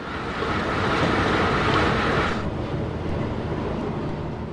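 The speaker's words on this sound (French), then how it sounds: "Les trains sont assurés par des autorails Picasso basés au dépôt d'Attigny." A Picasso railcar on an Ardennes tourist railway rumbles past nearby, a loud steady broadband roar with no pauses that softens slightly toward the end.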